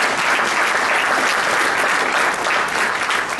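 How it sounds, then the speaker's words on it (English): An audience at a business diversity expo applauds the Black Stallion team with loud, dense, continuous clapping from many hands, steady throughout and close, with no voices standing out. "Let's give them a round of applause,"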